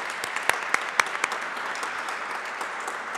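An audience applauds after a speech at an archaeology lecture, giving a dense, even round of clapping with several sharp, close individual claps standing out in the first second.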